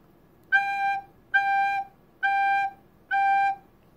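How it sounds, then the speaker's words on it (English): Four evenly spaced quarter notes played on a recorder, each a clear, steady held tone with a brief gap between, alone in a quiet room. "That would sound like this."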